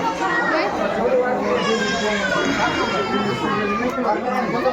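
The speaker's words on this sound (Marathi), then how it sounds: "गर्दी भरपूर आहे" A dense crowd of people climbing temple stairs, with steady chatter, children's voices and shuffling movement close around, and a voice speaking over the noise.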